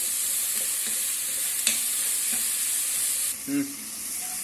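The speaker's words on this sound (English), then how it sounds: "And this also sauteed for few minutes." Onions sautéing in a pan for bread manchurian, a steady high sizzle with a handful of light spatula stirs and one louder scrape near the end, close and without voices.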